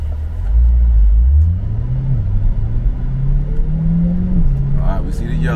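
Cars pass along a city street, with one engine rumbling close and loud as its pitch climbs steadily, and a voice talks over the traffic.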